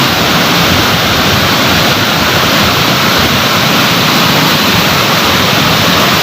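Floodwater in the Sabarmati river rushes near Subhash Bridge in a loud, unbroken roar, a dense wash of churning water that holds steady from start to finish with no voices.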